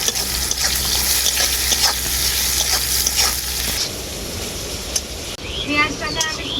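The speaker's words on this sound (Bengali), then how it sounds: "এরপর আমি পেঁয়াজটা খুব ভালো করে ভেজে নেবো" Close, crackling sizzle of onions frying in a pan with occasional stirring scrapes, then a brief quieter stretch with a voice speaking.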